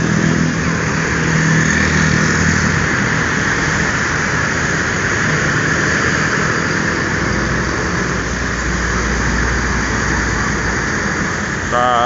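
A Rosalia Indah intercity bus engine rumbles steadily nearby at a Palembang terminal, with faint squeal and traffic noise mixed in throughout, continuous and fairly loud with no clear speech.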